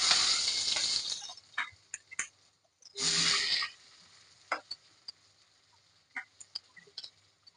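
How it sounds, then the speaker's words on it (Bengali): Onion and green chili lightly frying in a pan, with two bursts of soft sizzling separated by gaps filled with light clicks and taps of stirring, close and fairly quiet. "হালকা হালকা করে ভেজে নিতে হবে এটা। পেঁয়াজ আর কাঁচা লঙ্কা দিয়ে দেবো এর মধ্যে।"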